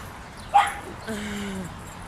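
A dog at a New York City dog run gives a single sharp yip followed by a drawn-out whine, close and fairly clear over quiet outdoor background noise.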